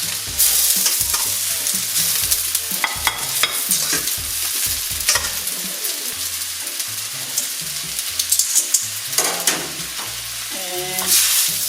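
Beef chow fun noodles stir-fried in a wok, with a continuous sizzle under repeated scraping and clattering of the utensil against the pan, and sharper bursts of sizzling that swell and fade close by.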